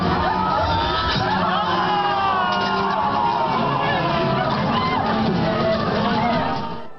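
A packed Comic-Con audience reacts aloud while watching a Happy Tree Friends episode. Dense, loud babble with scattered shouts and laughter runs throughout and cuts off abruptly at the end.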